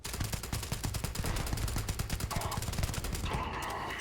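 Rapid automatic gunfire from modern sci-fi firearms in a Starfield weapons mod, a steady stream of sharp, evenly spaced shots running loud and close through the whole stretch, with brief changes in tone near the end.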